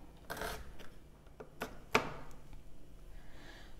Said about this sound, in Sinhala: අමු මිරිසුත් තීනියට කපමු.